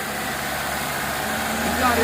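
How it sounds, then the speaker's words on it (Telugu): A 2020 Hyundai Aura 1.2 Kappa petrol manual sedan idles with a steady low hum and faint mechanical whine, a slight rise toward the end, heard close with no other sounds. "no back compressor engine is very good good perfect Hyundai"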